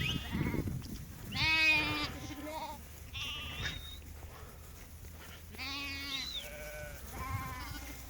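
Sheep in a flock of around 120 pregnant ewes with lambs bleat repeatedly, several loud overlapping calls rising over a steady background of farm animal noise.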